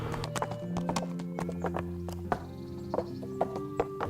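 Horse hooves clip-clop irregularly on a hard surface in Kingdom Come: Deliverance, with several horses moving and an occasional whinny over a low background drone.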